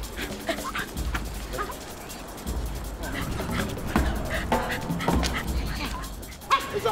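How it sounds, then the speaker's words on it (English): A pack of dogs gathered for a night rat hunt in upper Manhattan, in freezing weather, barks, yips and whimpers excitedly in repeated bursts nearby, with people's voices mixed in. "The dogs are all assembled"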